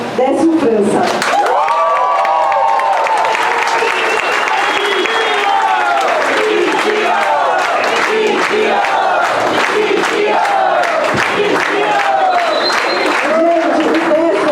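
A crowd at a Casa Marx launch event in Vila Madalena, São Paulo gives a sustained, loud round of applause for a speaker, with cheers and shouts rising throughout the clapping.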